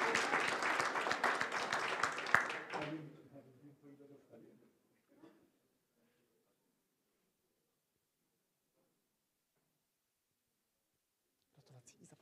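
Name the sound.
audience applause at an award gala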